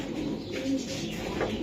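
A racing pigeon cooing softly nearby, a few low throaty coos amid a busy, noisy loft background, no talking.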